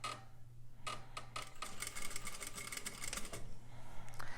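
Sewing machine backstitching at stitch length 4, a faint rapid ticking and clattering run of stitches with short pauses in between, heard alone and close.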